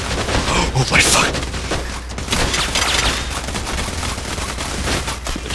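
Gunfire during a bank heist in PAYDAY The Heist, dense overlapping bursts of shots and impacts forming a continuous loud fusillade, with a voice talking over the shooting.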